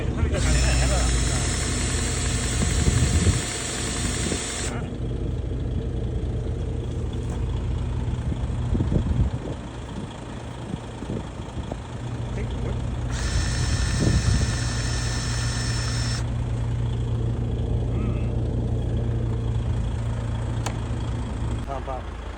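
Concrete pump truck engine running steadily during a house and driveway pour: a continuous low, loud diesel drone with a rising whine at times and people talking over it.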